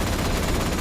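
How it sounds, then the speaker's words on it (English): Dense, continuous gunfire in the video game Atomfall, a steady roar of overlapping shots with no pauses, loud and close throughout the brief moment. "There's so much gunfire going on around me."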